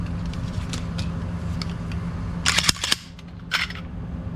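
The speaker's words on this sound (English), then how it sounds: "let's see what our trigger weight is. So we have the analog style trigger tester" An empty Walther PDP pistol is dry-fired on an analog trigger tester, giving a few sharp close metallic clicks and snaps over a steady low background hum.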